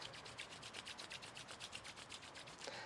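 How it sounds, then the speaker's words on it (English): Palms rub briskly together in a steady rhythm of roughly a dozen soft, quick back-and-forth strokes, faint and close, with no talking. "Rub the palms together."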